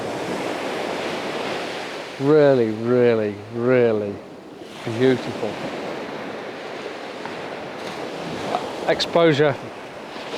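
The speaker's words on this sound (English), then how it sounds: "Listen to the crashing waves." Waves crash and wash along a seashore in a steady broadband roar, with wind buffeting the microphone, while a person talks in short bursts over the surf.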